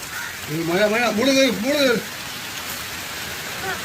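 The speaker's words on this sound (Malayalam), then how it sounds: "മഴയും പെയ്യുന്നു." Rain falls in a steady outdoor hiss throughout, while a voice speaks briefly over it near the start.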